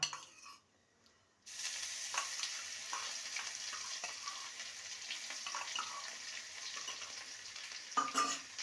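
Ginger paste fries in a spiced tempering for vegetarian moong dal. A brief hush gives way to a steady, close sizzling hiss with light stirring taps and a louder scrape near the end. No voices.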